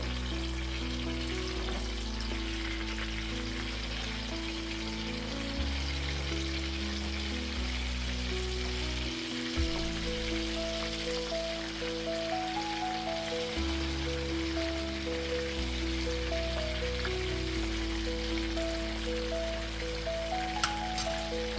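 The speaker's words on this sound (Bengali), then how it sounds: "এভাবেই আস্তে আস্তে আমি এখন ভেজে নিব কাবাবগুলি।" Chapli kababs frying in oil in a pan, an even crackling sizzle that runs the whole time under looping background music, with no voices.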